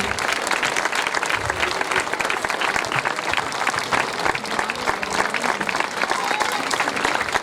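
Steady, dense applause from an audience for a troupe of girls after an acrobatic act on a narrow stage, continuous and fairly loud throughout with no voices standing out.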